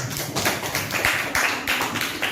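Students in a classroom teaching session applaud the first group after its presentation, a steady patter of many hands clapping together at moderate loudness, with no voices over it.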